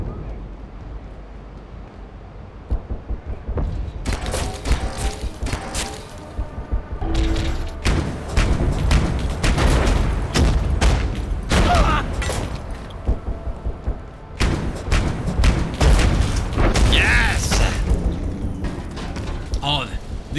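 Grenades exploding in the video game Abiotic Factor, a series of loud, heavy booms and thuds repeated in quick succession with mechanical clatter, while a voice talks over them.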